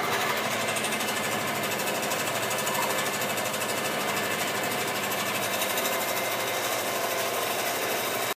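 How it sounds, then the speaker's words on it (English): Steel drilled at 700 RPM for pilot holes with cutting oil, a continuous dense machine whine and rattle holding steady throughout, close and loud with no talk. "Okay, well that's the last of the pilot holes."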